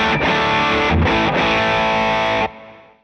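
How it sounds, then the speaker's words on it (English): Electric guitar driven through an Ibanez Tube Screamer overdrive pedal in an effects loop: dense, gritty chords strummed in a few quick bursts, held loud for about two seconds, then fading out. "I plug the Tube Screamer into my send and return 1. Sounds like this."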